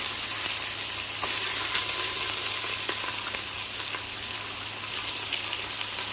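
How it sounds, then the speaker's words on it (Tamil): Mustard seeds and urad dal fry in hot oil for tempering a crab curry, giving a dense, steady close sizzle with faint scattered pops and crackles throughout, no voices. "கடுகு, உளுத்தம்பருப்பு போட்டுக்கணும்."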